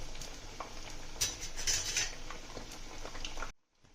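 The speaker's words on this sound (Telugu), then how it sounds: "మంచిగా కొంచెం బ్రౌన్ కలర్ వచ్చేదాకా ఫ్రై చేద్దాం" Bottle gourd vadas (garelu) frying in oil until brown, giving a continuous close sizzle with clinking utensil taps on the pan, ending abruptly in near silence.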